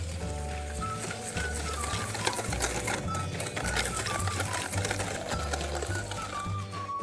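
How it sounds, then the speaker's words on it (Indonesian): Sugar, eggs and vanilla hand-whisked in a bowl for chocolate banana cake batter, made without a mixer: a close, steady, fast rhythmic clatter that continues throughout. "Ini aku kocok terlebih dahulu ya."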